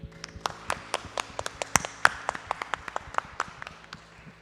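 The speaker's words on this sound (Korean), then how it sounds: "우리 주님께 힘찬 박수 올려드리겠습니다." A church congregation at a Friday worship service claps in a loose, uneven rhythm of sharp, separate claps from a small group, steady and moderately close, with no talking.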